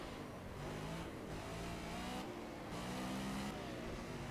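A race car in the game Project Cars runs around Hockenheim National, its engine droning loud and close with repeated revs rising and falling as it shifts through the gears.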